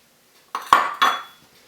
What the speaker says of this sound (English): we're going to kind of mix that in a little bit together